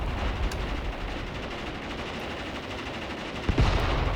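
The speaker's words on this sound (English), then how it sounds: "Or are those my machine guns that I hear shooting?" Machine gun fire in the war game Graviteam Tactics, a continuous crackle of distant automatic bursts with a louder sharp shot near the end, no voices.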